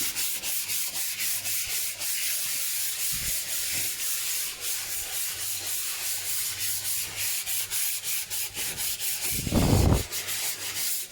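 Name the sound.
hand sanding MDF board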